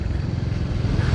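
A Royal Enfield Hunter 350 motorcycle gives a brief, loud, steady low engine rumble while being ridden.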